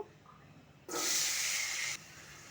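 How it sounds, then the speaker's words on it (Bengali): Potatoes hit a hot pan and set off a sudden loud, hissing sizzle that lasts about a second before dropping back to a quieter background, with no voices heard. "এখন আলুগুলোকে ভেজে নেবো"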